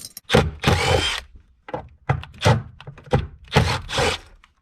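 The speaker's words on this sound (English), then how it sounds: "we've got screws right here that we have to take out first" A power tool backs out T30 Torx screws holding down the carpet in an Audi B8.5, whirring in about six short bursts separated by brief pauses.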